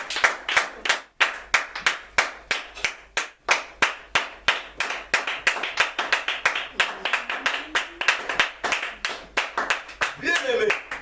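A church congregation claps hands in a quick rhythm, sharp close claps repeating steadily, with a voice speaking over the clapping near the end.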